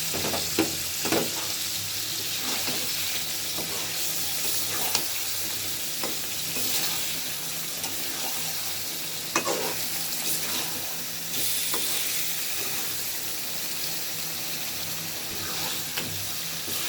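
Katla fish pieces sizzling and frying in a cooked-down spice masala, a steady broadband crackle with occasional stirring clinks and scrapes throughout, close and fairly loud with no voices.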